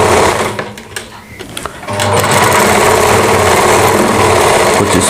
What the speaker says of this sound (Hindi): इसके बाद में इसके ऊपर भी सिलाई लगा देनी है।